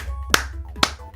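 Two sharp, separate hand claps about half a second apart, close and crisp over a low steady hum.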